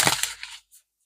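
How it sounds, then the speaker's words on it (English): A tarot deck gets a final quick shuffle, a short burst of riffling card flutter followed by a faint tap, heard close and alone. "A final shuffle."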